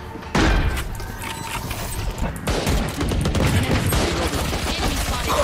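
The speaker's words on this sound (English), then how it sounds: "Bomb grenade out." A grenade blast in a tactical shooter match, a sudden loud booming burst that hits hard and then rolls into a dense, sustained rumble of gunfire and impacts.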